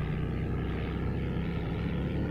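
Steady drone of a PZL Koliber propeller aircraft engine in FlightGear, constant and close, a low even hum with no breaks.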